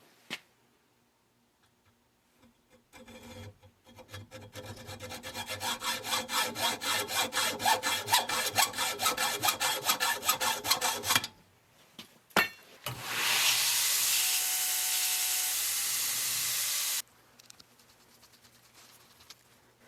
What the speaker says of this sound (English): This is a little diamond wheel and a drill. It's pretty janky, but it's working.